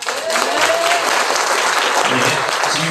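Loud, dense audience applause following a lecture, steady and sustained throughout with a faint voice briefly audible early on.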